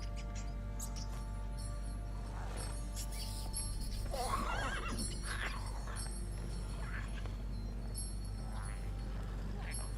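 Roach, Geralt's horse in the video game The Witcher 3: Wild Hunt, gives a mid-clip whinny around a steady game ambience with birdsong and faint hoof clops, while voices talk intermittently.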